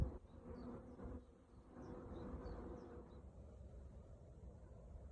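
Honeybees buzz around a hive in Coston while a beekeeper works with queens and supers. Bees close by give a soft, continuous hum, and single bees dart past now and then under light handling noises.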